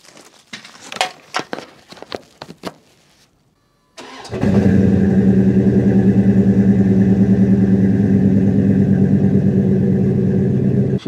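A Dodge Ram pickup with a Flowmaster exhaust cranks after a few clicks and clunks, then catches and settles into a loud, steady, throaty idle close by.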